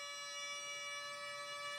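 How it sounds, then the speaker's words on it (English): A sustained siren-like tone, a steady pitch with stacked overtones, holds evenly through the short stretch of music, faint and unbroken without any voice. "It sounds like the Silent Hill siren."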